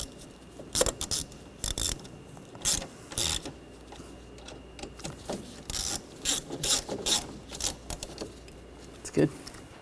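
A ratchet tightens screws on the coolant reservoir of a 2013–2019 Ford Escape 2.0L, in short repeated bursts of quick clicking with brief pauses between strokes, close up.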